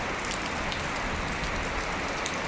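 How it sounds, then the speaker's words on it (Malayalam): Heavy monsoon rain pours down in a continuous, dense hiss of drops hitting surfaces, steady and enveloping with no let-up or voices. "ഭയങ്കര മഴയാണ്, സൂപ്പർ മഴയാണ്."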